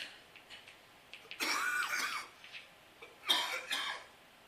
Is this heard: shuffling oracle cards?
no